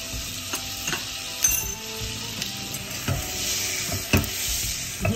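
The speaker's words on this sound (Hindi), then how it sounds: "जीरा तड़क रहा है" Cumin seeds crackle in melted butter in a pan: a steady close sizzle dotted with sharp pops and light clinks of a spoon, no talking.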